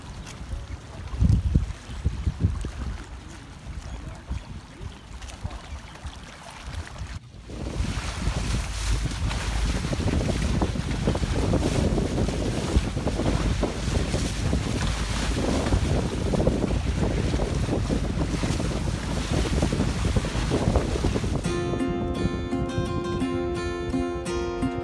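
Strong wind buffets the microphone with rushing water and waves around a catamaran under sail at sea off Mauritius; a short musical passage enters near the end.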